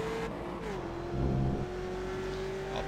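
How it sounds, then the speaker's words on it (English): A race car in a mini mixed-class circuit race accelerates down the straight, its engine note holding a steady rising drone with a brief louder surge midway, fairly close and continuous. "now as we get out on the straight, Kenneth will try to use the higher top speed to get past."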